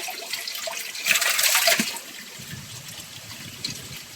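Water trickles and splashes from an old well on Gunung Jerai mountain in Kedah, a steady close wash that briefly swells louder before settling back to a gentle flow.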